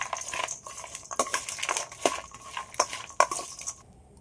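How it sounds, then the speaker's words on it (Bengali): Puffed rice chaat ingredients mixed together in a bowl, with dry crunchy rustling and scattered sharp clinks of a spoon against the dish, close and irregular. "এবার সবগুলো একসাথে একটু মিশিয়ে নেব।"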